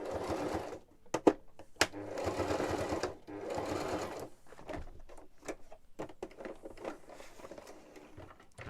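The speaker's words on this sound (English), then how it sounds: "It was just sewing on the spot." A sewing machine runs in short bursts, stitching in place while making a slot-in jotter for a lapbook, with brief clicks and knocks between runs and no talk.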